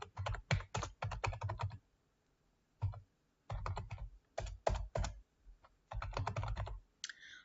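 Typing text on a computer keyboard, close, quick bursts of key clicks broken by short pauses, crisp and alone with no voice.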